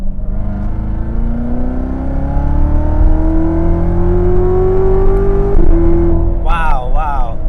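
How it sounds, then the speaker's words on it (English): A Corvette C7 Z06 accelerates hard in third gear from about 2,500 RPM. Its engine note climbs steadily and loudly, then a quick upshift breaks the rising tone near the end. A voice speaks over the sound. "We're gonna do another little pull here, third gear"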